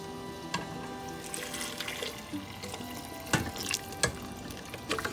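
Water is poured into a pot of frying spiced meat and vegetables, making a soft, steady watery hiss and bubbling with a few louder splashes.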